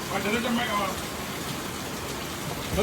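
Light rain sprinkling down, a soft, even hiss of patter that continues throughout while people talk over it.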